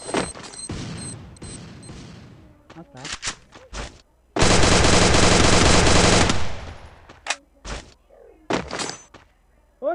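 Rapid machine-gun fire and sharp gunshots crackle through a video game match, peaking in a long, dense burst of explosive noise from a grenade blast before trailing off into scattered shots, with voices talking intermittently.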